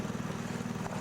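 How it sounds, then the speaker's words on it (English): A Honda power lawn mower engine drones steadily nearby, a constant mid-pitched hum with no talking. "You can see he's got a Honda power mower"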